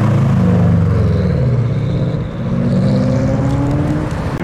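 A Subaru drives off from a JDM car meet, its engine loud and near with a low rumbling growl that rises and shifts pitch as it passes, followed by more traffic noise.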